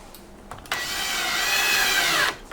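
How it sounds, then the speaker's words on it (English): A power drill drives wood screws through a dishwasher mounting bracket, a single steady whirring run of about one and a half seconds with a brief starting blip, loud and close with no talk. "all I'm gonna do now is use the 4 screws, the 4 wood screws that come with it, and secure the bracket"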